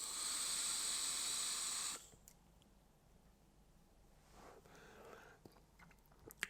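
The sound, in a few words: pull on Uwell Crown 5 vape tank at 55 watts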